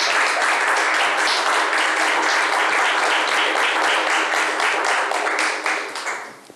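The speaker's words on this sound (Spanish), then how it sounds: "Oye, un aplauso" Loud, dense applause from an audience at a community memory and resistance gathering, sustained crowd clapping that fades off sharply in the last second.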